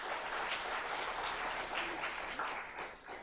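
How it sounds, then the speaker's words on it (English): An audience at a university silver jubilee reunion event gives a guest speaker a round of applause, a dense, sustained wash of many hands clapping that sounds somewhat distant and tapers off at the end, with no talk over it. "Let's give Gerald a big round of applause."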